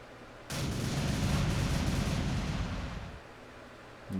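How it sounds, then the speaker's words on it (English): A ship's cannons in the game Second Life let out one broad, booming blast that rolls on for about two and a half seconds and then fades, with another burst starting at the very end. "Go ahead and fire off these cannons"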